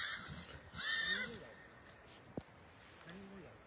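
Donkeys bray outdoors at a farm at moderate distance, with a few rising and falling calls, a sharp knock, and quiet surroundings.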